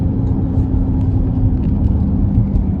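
Dodge Charger Scat Pack widebody cruising a mountain road, a steady low engine rumble and road drone heard from inside the car, constant and moderately loud without changes in pace.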